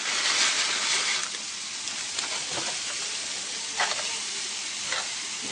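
Fideo noodles and vegetables sizzle steadily in an oiled pan, with a few scraping stirs of a utensil cutting through the constant close frying hiss.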